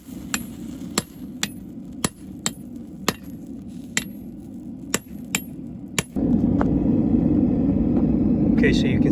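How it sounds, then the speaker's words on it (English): Hand-forging an axe, a hammer punch is struck to expand the axe eye: about ten sharp metallic blows at an even, steady rhythm over a low background hum, followed by a louder continuous roar near the end. "used my newly created hammer punch to expand the eye"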